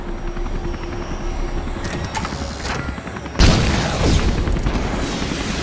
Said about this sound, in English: I'm reading an incoming ship. Watch out! It's about to open fire!